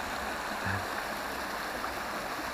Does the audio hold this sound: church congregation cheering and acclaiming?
no